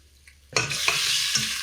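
Onions and aromatics drop into a hot pan and are stirred, setting off a sudden loud sizzle that keeps crackling steadily, with a couple of scraping strokes from the spoon.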